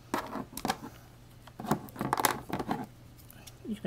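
Scissors trim excess paper from a chipboard bookmark in short bursts of close, crisp snipping and rustling, separated by quieter pauses.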